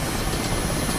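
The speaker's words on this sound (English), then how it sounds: "Come on, helicopter. Let me just get into some straight and level flight." An Mi-8 Hip helicopter flying in the DCS flight simulator gives a continuous, loud wash of rotor and turbine noise that stays steady and close throughout.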